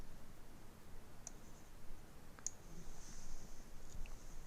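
Computer keyboard keys pressed for a Ctrl and A select-all shortcut, two or three sharp, faint clicks spaced a second or so apart over a quiet background hiss.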